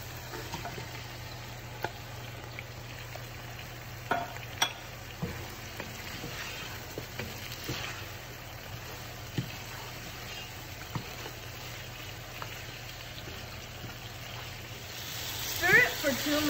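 Mutton frying in a pan with dark-browned onions and garlic paste produces a quiet, steady sizzle with occasional soft pops and stirring taps, and a voice talks faintly over it.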